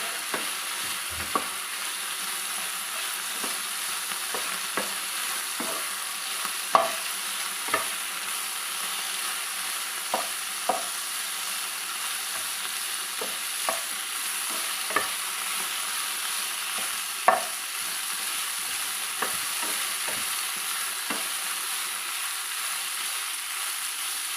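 Nalleru chutney ingredients being stir-fried in a pan, a steady low sizzle with frequent light spatula scrapes and taps repeating irregularly throughout, close and alone without any talking.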